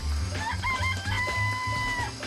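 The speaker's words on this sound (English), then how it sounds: "I remember there were some chickens in the coop." Chickens in a coop from a video game, several clear clucks and a drawn-out crowing call over a steady low rumble, close and fairly loud.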